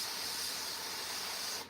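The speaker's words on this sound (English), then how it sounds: "Harsh spray on my tissue just to remove any clog" A steady, close hiss of an airbrush spraying onto a tissue to clear a clog, continuous for nearly two seconds before cutting off.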